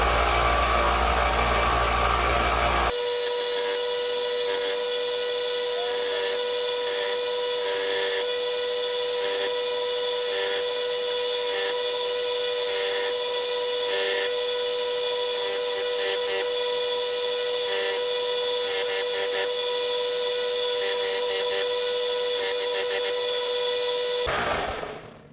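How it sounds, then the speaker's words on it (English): Belt sander grinding finger grooves off a Glock polymer pistol frame, a loud, steady whine holding for more than twenty seconds with no talk, then cutting off. "I'm going to use the belt sander to remove the finger grooves."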